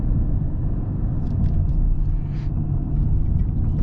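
A 2022 Mercedes GLE 580 V8 in Sport Plus mode gives off a steady, loud low rumble under acceleration, heard from inside the cabin, with a few faint high ticks above the drone.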